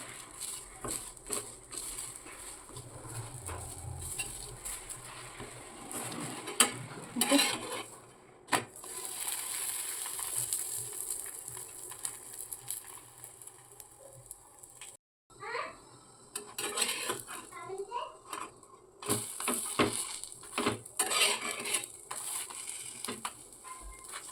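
Onion and oil are stirred in a frying pan with a spatula, giving intermittent scraping strokes over a soft sizzle, with someone talking now and then.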